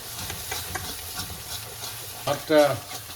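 Chili powder fries with masala for chicken biryani, a low sizzle with scraping stirs, and a brief voice is heard near the end.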